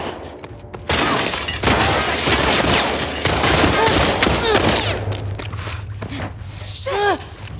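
Gunfire and shattering crashes from the video game The Last of Us Part II, dense and loud through most of the stretch, with a player shouting and talking over the action.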